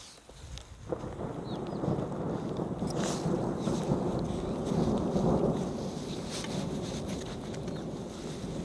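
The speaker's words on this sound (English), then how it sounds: "Now the rain has started" Rain sets in over the mountains of Kullu, Himachal Pradesh, with thunder rolling through; a dense, steady wash of rainfall and rumble swells early and holds loud to the end, with no voices.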